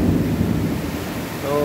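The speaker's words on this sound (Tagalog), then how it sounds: "Lakas ng hangin." Strong wind during a heavy rainstorm with lightning, a loud, close, continuous roaring rush that fills the whole moment and barely lets up.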